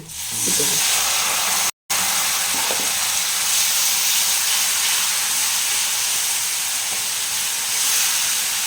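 Spice paste for a Bengali lau chingri (bottle gourd and prawn) dish sizzles and hisses steadily in a hot pan after a splash of water, a loud, continuous frying roar with faint stirring scrapes early on.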